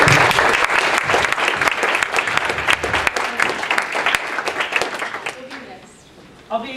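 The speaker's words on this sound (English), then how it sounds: "just give a round of applause." Audience at a student senate general assembly meeting gives a loud, sustained round of applause with dense clapping that tapers off near the end, followed by a brief voice.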